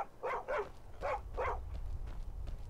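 Several sharp dog barks from a video game dog in Skyrim, arriving in two close pairs and then a fainter one, with low rumbling game ambience underneath.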